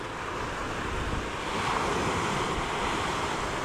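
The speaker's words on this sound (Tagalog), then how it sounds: "Grabe kasi lakas guys ng hangin." Strong sea wind roars steadily alongside crashing surf on a boat outing, a dense, loud and continuous rush with no talking.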